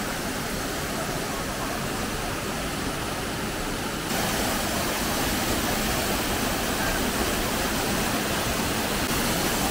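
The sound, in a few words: Durgadhara waterfall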